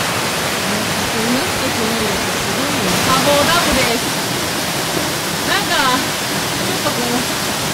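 Steady broadband rush of water pouring over a check dam along a walking trail in Kochi Prefecture, Japan, continuous and close, with a person talking intermittently over it.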